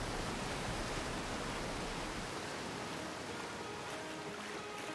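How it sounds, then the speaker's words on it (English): Steady roaring waterfall from the video game Outer Wilds, a dense unbroken wash of falling water that stays loud and close throughout, with no talk over it. "Casually on top of the waterfall that is going on right now."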